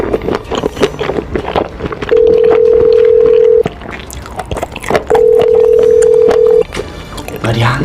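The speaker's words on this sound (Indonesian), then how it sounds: "Ya udah biar gue aja yang nelpon deh." Telephone keypad tones sound in two long steady beeps while someone dials a call, with people talking close by and clattering in the background.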